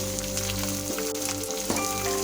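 Prawns, about 150 grams, frying in a wok with a steady, close sizzle that holds throughout, with a couple of brief stirring scrapes partway through and no talk.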